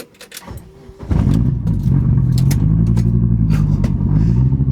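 An Audi Quattro with its exhaust removed starts, then its engine runs loud and raw right up close. A deep, rough roar with crackling pulses follows a few light clicks and jingles before the start.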